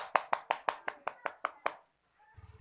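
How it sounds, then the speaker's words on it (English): Students in a classroom give a short burst of applause, about nine crisp claps in an even rhythm that stops abruptly, followed by a faint murmur. "Give applause for beer."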